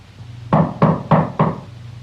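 Four firm, evenly spaced knocks on a door ring out loud and close, each sharp rap followed by a short decay, in a gothic horror film setting.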